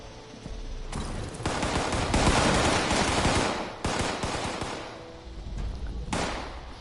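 AI characters trade gunfire in the Fallout 76 video game, with dense, rapid bursts of automatic fire. Volleys swell and pause in waves, loud and close, with no talking.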